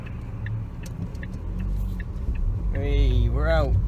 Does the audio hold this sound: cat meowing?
no